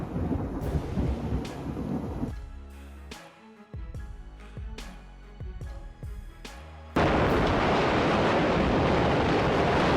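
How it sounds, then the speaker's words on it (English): Thunder from a night lightning storm over Del Rio, Texas, with heavy rumbling crashes and booms breaking out repeatedly, close and loud, ending in a sustained roaring wash that sounds like downpour. "In the dark night, repeated lightning flashes lit up the sky over Del Rio, Texas, creating a scene both frightening and spectacular."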